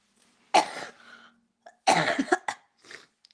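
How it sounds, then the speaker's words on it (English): A man recovering from a cold coughs in two harsh bursts, the second longer and rougher, followed by a faint throat clear, close to the microphone with no talking. "Sorry, I've been coughing a lot."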